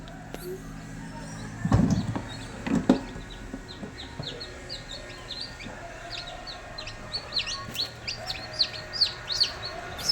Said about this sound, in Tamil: இப்போ இது வந்து குஞ்சு பெரிச்சிருக்கு